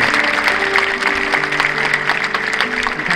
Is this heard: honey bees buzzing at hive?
no